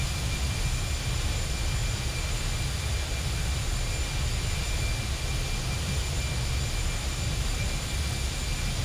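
Airliners pass overhead in the P3Dv5 flight simulator game, heard as a steady, continuous jet roar with a low rumble that does not rise or fall, and no voices.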